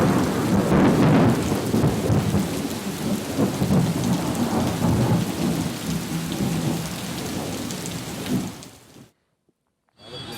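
Record-setting heavy rain pours in Bengaluru, a loud, continuous roar with deep rumbling thunder underneath, before it cuts abruptly to near silence in the last second.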